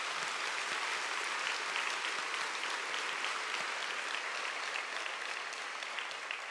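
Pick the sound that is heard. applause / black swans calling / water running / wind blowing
applause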